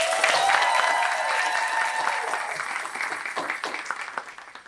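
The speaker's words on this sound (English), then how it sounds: "let's give them another round of applause." A roomful of people applaud warmly, the clapping loud at first and then gradually thinning and fading toward the end.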